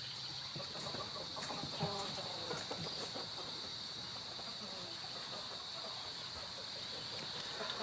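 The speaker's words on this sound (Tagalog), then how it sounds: "Ayan o, sa kulungan ng manok. Napakaraming manok." A crowded chicken coop in the rain, with scattered clucks and calls from many hens rising over a constant hiss of rainfall, mostly in the first half.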